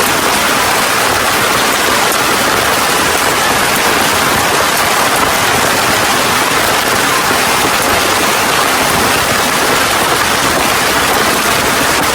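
Heavy rain pours steadily and loudly over a campsite beside a stream, a dense unbroken hiss of drops with no pauses and no voices throughout.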